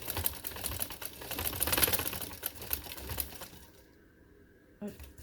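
Sewing machine stitching a kurti neckline with lace: fast, rhythmic mechanical clatter close by, slowing and fading out, with a voice heard faintly alongside.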